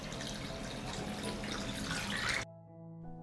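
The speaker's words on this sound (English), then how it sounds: "I pour hot water into the pot." Hot water is poured into a cooking pot that holds a jar resting on a cloth. A steady, splashing pour runs for over two seconds and then stops abruptly, leaving a faint ringing hum.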